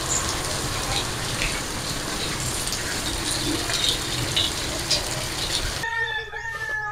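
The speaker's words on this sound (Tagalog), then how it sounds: "Lakas ang ulan dito." Heavy rain pours steadily on a surface outdoors, a dense, continuous hiss, with a rooster crowing and clucking faintly behind it before the sound cuts off near the end.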